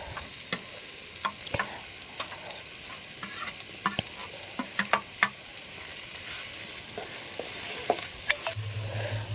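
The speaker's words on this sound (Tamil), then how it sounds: "ஒரு 4 பெரிய சைஸ் அளவு தக்காளி நல்லா பியூரியாக அரைச்சிக்கிட்டோம், அதுவும் போட்டு நல்லா வதக்கிக்குங்க." Tomato puree sizzles in a hot pan with green chillies and ginger garlic paste, a steady fry under repeated clinks and scrapes of a spoon stirring, close and moderately loud with no talk.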